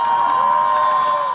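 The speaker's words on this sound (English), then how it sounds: "the reception was, as it had been elsewhere in Germany, one of cheers, applause, banners and balloons" Crowd cheering and applauding refugees arriving at Frankfurt's station, a dense, steady wash of voices and whoops that stays loud and constant throughout, with a sustained tone running underneath.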